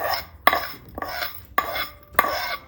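Metal utensils clink against a plate while fried ingredients for sago vermicelli payasam are transferred, giving four sharp, evenly spaced clinks close by with soft scraping between them.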